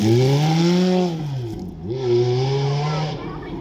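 Ferrari 430 on a dry circuit at a supercar demonstration run, its engine revving hard through the gears with rising, then dipping and rising pitch, loud and close, with a commentator's voice over it.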